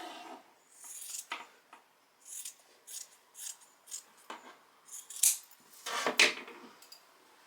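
Scissors snip repeatedly through a men's flannel shirt fabric, a series of close, crisp cuts in uneven bursts with short pauses between them.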